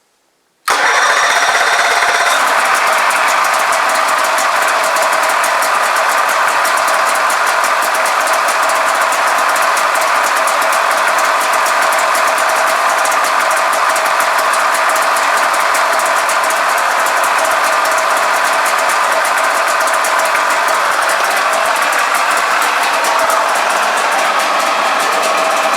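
Polaris engine cranks on the key and catches almost at once, then runs at a loud, steady idle close by for the rest of the clip.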